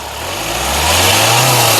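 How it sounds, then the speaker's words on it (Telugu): A 2016 Hyundai i20 Asta engine revs up nearby, its pitch climbing and growing louder over a couple of seconds. "ఇంజన్ యొక్క నాయిస్ చాలా సైలెంట్గా అయితే ఉందండి"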